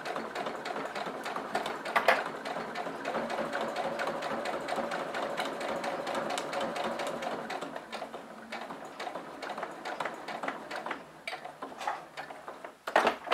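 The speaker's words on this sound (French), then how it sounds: "Je tourne légèrement mon tissu et je repars pour finir ma surpiqûre." A sewing machine topstitches fabric in rapid, even mechanical ticking. The run pauses briefly and restarts in shorter bursts toward the end, close-up, with no voices.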